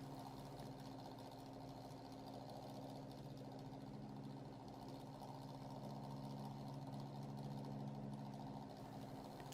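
Small Thomas model locomotive running on a rolling road after its wheels were cleaned, a steady whirring motor hum with a fine rhythmic buzz, continuous and close, no voices.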